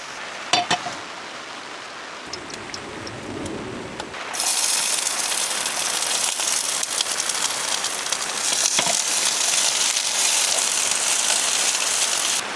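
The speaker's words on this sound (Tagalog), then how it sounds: "Grabe, lakas ng ulan." Steady, dense rain hissing on a surface at a campsite in Bangkong Kahoy Valley, Dolores, Quezon Province, growing heavier and louder partway through, with occasional drips and clinks.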